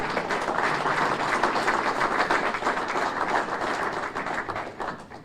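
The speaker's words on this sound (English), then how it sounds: "Let's give it up for Michelle Smith." Steady, dense applause from an audience at a city State of the City address welcoming a speaker to the stage, loud and sustained with no voices over it.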